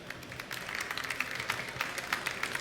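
An audience at a chefs' summit breaks into brisk, scattered applause that swells and continues steadily, with many hands clapping at moderate distance.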